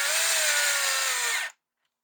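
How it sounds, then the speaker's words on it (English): A cordless screw gun spins up loud and steady for about a second and a half while tightening a screw on a Stihl 55R string trimmer, then cuts off abruptly into silence. "We'll take our screw gun and tighten her down real quick."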